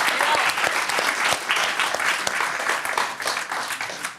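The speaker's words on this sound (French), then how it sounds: "On peut l'applaudir" A studio audience applauds on a French football talk show, with dense, steady clapping that stays loud throughout and eases slightly toward the end.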